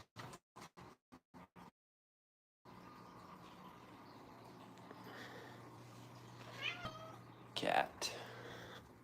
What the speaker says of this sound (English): What is going on, cat?